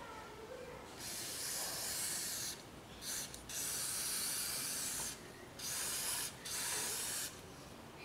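Car 80 carburetor cleaner sprayed onto a Yamaha XV 250 Virago carburetor: a series of sharp aerosol hisses in bursts of varying length separated by brief pauses, close to the microphone with no talking.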